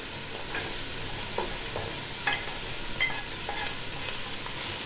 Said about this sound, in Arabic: هننزل عليه بالجزر برضه وهنقليه معاه